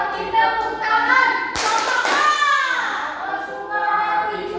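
A class claps hands along to a children's song, a few sharp claps breaking through a sung voice that carries over the top.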